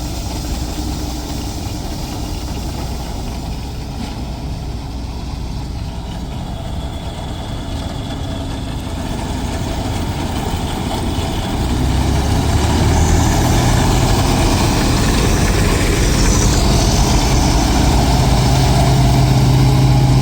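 A ZIL truck's engine idles nearby during the wheat harvest as grain is hauled, a steady rumbling drone that grows louder and heavier partway through.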